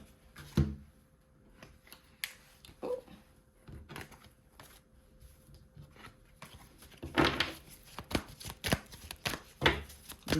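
Oracle cards are shuffled in scattered bursts of riffling and tapping, sparse at first and then denser and louder toward the end, against a quiet room.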